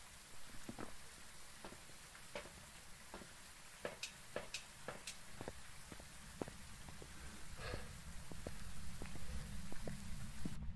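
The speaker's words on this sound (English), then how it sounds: "yeah, it's heavy rain." Steady video game heavy rain hiss with scattered sharp drip-like ticks, fairly faint and continuous, swelling slightly toward the end.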